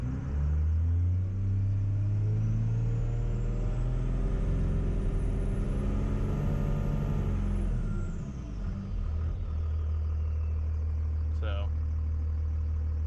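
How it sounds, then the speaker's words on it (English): A Cummins diesel in a half-ton pickup with fuel upgrades revs up from idle, its rumble climbing steadily in pitch to a peak and then falling back to a deep idle, loud and close. "you guys can see how far this truck will rev up now"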